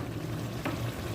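A chickpea and potato paste is stirred into sizzling masala in a pan, giving a brief close frying hiss with two soft scraping stirs.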